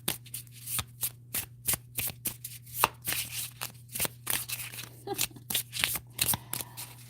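An oracle deck of spirit animal cards is shuffled by hand at close range. Crisp riffles and slaps repeat in a quick, steady rhythm, with no voices over them.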